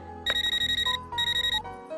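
Telephone ringing in a Telugu film scene, two bursts of rapid, bright electronic trills separated by a short pause, clear and fairly close with no talk.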